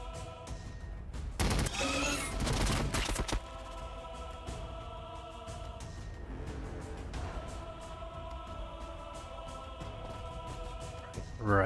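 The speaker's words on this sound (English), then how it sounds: "Open fire!" Gunfire bursts in the Warhammer 40K: Battlesector strategy game, a loud dense volley of shots and booms early on, then continuous rumbling battle noise with tonal music or hum underneath.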